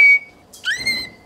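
A loud whistle from a person taking a break while building a stick-insect enclosure: a short piercing tone, a pause, then a longer rising and wavering whistle with rich overtones, heard alone up close.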